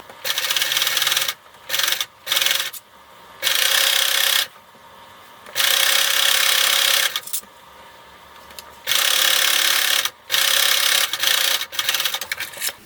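A sewing machine stitches bias binding around a hem in loud, close bursts of rapid whirring, stopping and starting several times with short pauses between runs.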